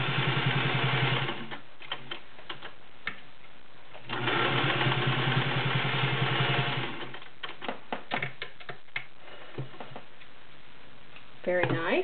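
A Singer 500A Rocketeer Slant-O-Matic sewing machine stitches through five layers of woven upholstery fabric with a rubber backing. Loud, steady mechanical whirring comes in bursts that start and stop, with ticking clatter between runs.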